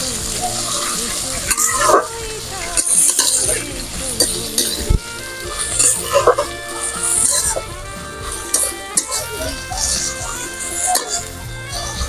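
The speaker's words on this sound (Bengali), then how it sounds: "পেঁয়াজটা আমি খুব ভালো করে লাল করে ভেজে নেব।" Onions with a little black cumin sizzle in hot oil in a pan while being stirred, giving a continuous frying hiss with scraping and clinking of the spoon, and a dog barks faintly in the background.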